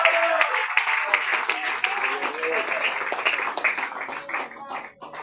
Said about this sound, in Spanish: Dale fuerte aplauso al Señor